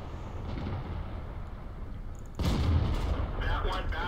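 In World of Tanks, an M56 Scorpion tank destroyer's gun fires one heavy boom partway through, cutting sharply above a steady engine rumble and followed by a rolling echo and some clattering.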